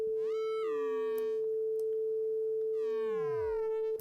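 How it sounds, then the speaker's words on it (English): Pure sine tone from the Porphyra hybrid Kontakt instrument by Ocean Swift, a steady loud drone holding one pitch throughout, with two swooping chirp-like sweeps layered on top, each gliding down in pitch and then fading. "So if I do it on a sine wave,"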